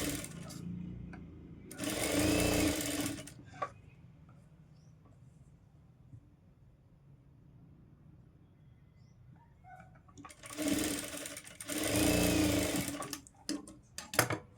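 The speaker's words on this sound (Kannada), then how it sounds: "ಇಟ್ಕೊಂಡು ಸ್ಟಿಚ್ ಮಾಡ್ಕೊತೀನಿ." Sewing machine stitching the side seam of a blouse in two loud bursts of rapid whirring, separated by a quiet pause with light handling sounds.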